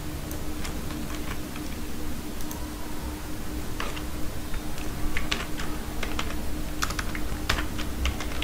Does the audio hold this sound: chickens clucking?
no